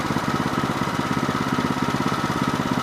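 A sawmill engine runs steadily at a constant mid-pitched drone with an even, rapid pulsing, loud and close, with no talk over it.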